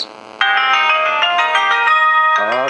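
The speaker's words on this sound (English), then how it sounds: "oh, that's a phone call." A loud electronic phone ringtone plays a bright repeating melodic pattern for an incoming call, clear and close with no talking over it.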